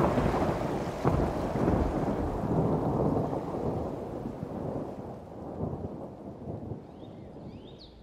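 A cartoon thunderstorm over a river with a fishing boat brings loud rolling thunder and heavy, steady rain that fades slightly toward the end, with no speech.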